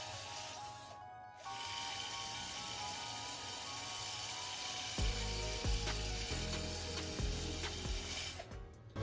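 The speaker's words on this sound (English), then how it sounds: "I'm about to get the wheel wire brush and kind of clean the surface so that the mating surface is clean for a nice weld" A wire wheel brush scrubs the metal of a Mazda RX8 clutch pedal before welding. A loud, close, grinding whir runs throughout, with uneven scraping bursts in the second half.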